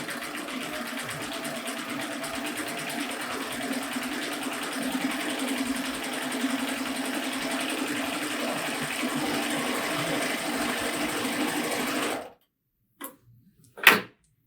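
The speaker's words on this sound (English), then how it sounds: "And start stitching." A Baby Lock Euphoria sewing machine stitches steadily with a fast, even mechanical whirr and needle tick for about twelve seconds, then stops, leaving a few faint clicks.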